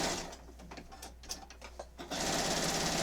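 A sewing machine stitches down quilt binding, its close, steady whir starting at once, easing into a brief uneven pause, then resuming strong and continuous to the end.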